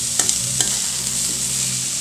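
Onions sauté in a hot pan for red amaranth keerai poriyal, a loud, steady close-up sizzle with a couple of quick stirring clicks.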